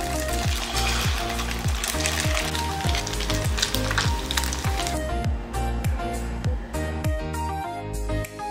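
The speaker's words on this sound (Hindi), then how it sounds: "डीप फ्राई करने वाली हूँ।" Maggi noodle nuggets deep frying in hot oil give a continuous bubbling sizzle. A repeating musical beat plays loudly over it throughout.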